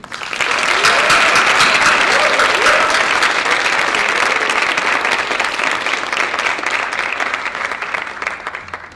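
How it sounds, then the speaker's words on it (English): Sustained audience applause at a Film Arts Honours graduation ceremony, dense rapid clapping from a large crowd that holds steady for several seconds before tapering off at the end. "A round of applause to the Film Arts Honours students."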